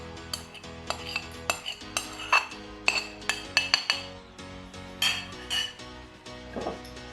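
Chicken and powdered spices are added to a bowl, giving a busy run of metal and glass clinks, clatters and scrapes of spoons and dishes, close and irregular, with no voices.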